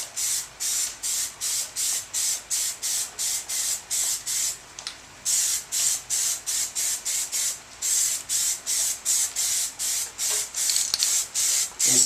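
Black Plasti Dip aerosol is sprayed onto EVA foam armor in a steady rhythm of short hissing bursts, close and fairly loud, with a brief pause midway and no voices.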